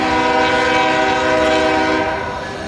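Train rolling past close by with its horn blaring in long sustained harmonic blasts over rumbling wheels, loud and steady before easing slightly at the end.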